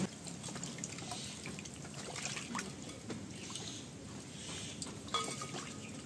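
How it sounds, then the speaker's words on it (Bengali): Two prawns being rinsed under running tap water, a close trickling splash with light clinks and shifting water noise throughout, fairly quiet, no voices. "মাছ দুটো আমি এইভাবে ধুয়ে নিচ্ছি"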